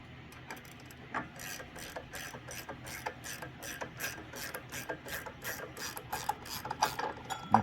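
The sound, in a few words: ratchet wrench backing a bolt off a crankshaft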